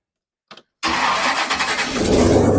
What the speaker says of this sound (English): Now, this is in a fuel injected engine. It's 496 cubic inches.